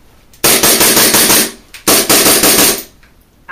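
A WE Extended Slide M92 pistol firing in two rapid full-auto bursts, each roughly a second long, loud and close, separated by a brief gap.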